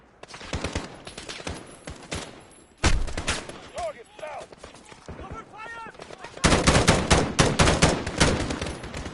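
Sustained machine-gun cover fire in a combat scene: rapid, loud bursts of automatic gunfire, close and continuous, briefly dipping near the third second, then swelling into a denser, heavier volley over the final seconds.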